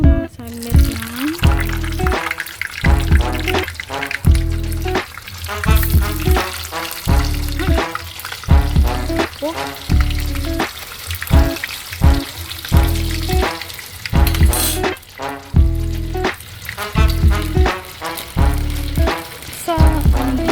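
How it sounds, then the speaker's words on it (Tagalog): Five pieces of longganisa sausage sizzle and spit in a hot pan, crackling steadily with bursts of popping and occasional scraping and stirring, close up and without voices. "So, ayan, magluluto na tayo ng ating longganisa."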